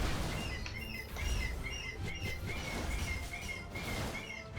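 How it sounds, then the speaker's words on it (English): Seagulls cry in the video game Skul: the Hero Slayer, a steady run of short, repeated high calls over a loud, dense background of game noise, with no talking. "Freaking seagulls, man."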